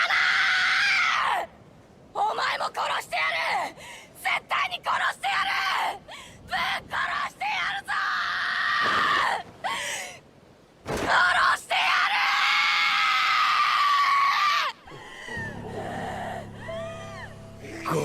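Anime character Thorfinn screams in anguish, loud, raw and drawn-out, with long cries broken by brief gasps and groans, rising and falling over the whole span before trailing into quieter strained sobbing.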